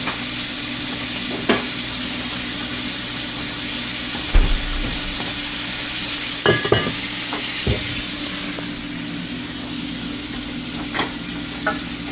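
Beef stir fry sizzling steadily in a hot pan with sweet soy sauce, a continuous close frying hiss broken by a few sharp clatters and spatters of stirring.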